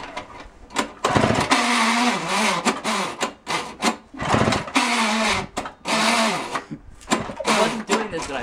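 A Toro S620 snowblower is pull-started by hand with repeated loud, close recoil-cord yanks, about eight rasping bursts in uneven rhythm with short pauses between them.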